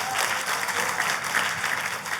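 Steady applause from a church congregation fills the room throughout, dense and continuous with no voices standing out.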